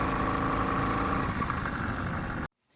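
A 100cc two-stroke motorized bicycle engine drones in a steady, loud, buzzing run for a couple of seconds, then cuts off abruptly into near silence.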